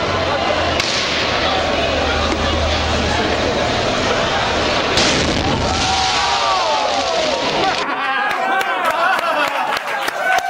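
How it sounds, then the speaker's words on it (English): Fireworks burst over a crowd in Prague, a dense continuous barrage of sharp cracks and pops with a roaring crowd wash, ending in scattered crackling bangs. "Hey, Prague, fireworks."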